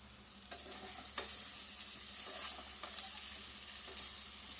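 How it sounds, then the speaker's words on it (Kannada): Amaranth stems and greens fry in a pan for village-style sambar, a steady soft sizzle with occasional stirring scrapes close by. "ದಂಟಿನ ಸೊಪ್ಪನ್ನ ನೀಟಾಗಿ ಫ್ರೈ ಮಾಡ್ಕೊಬೇಕು."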